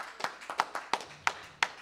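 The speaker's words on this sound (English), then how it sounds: "Give the Lord a hand clap." Hand claps at a church worship service, about seven sharp, evenly spaced claps in a steady rhythm, fairly faint and close, with no talking over them.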